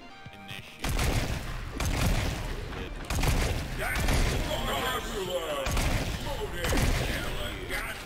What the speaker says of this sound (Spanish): Cuando absorbes eso, el disparo es mucho más fuerte.